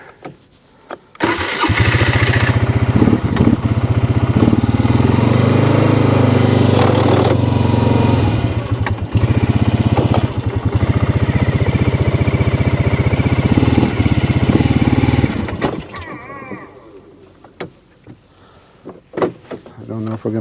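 Polaris Sportsman 300 ATV engine straining uphill in low gear, a loud, steady revving drone that holds for about fourteen seconds before dropping away, with people talking faintly in the background.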